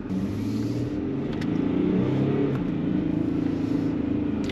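A second-hand Land Rover Discovery drives along with a low, steady engine rumble inside the cabin, its pitch stepping as the gearbox shifts, and the drone continues throughout with no talking.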